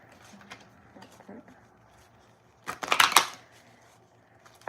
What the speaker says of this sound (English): I know how to shuffle these cards.